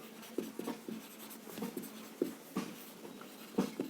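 Marker or chalk strokes scratch across a board during a physics lesson on a solenoid's magnetic field, a quiet, irregular series of short scrapes and taps with no speech.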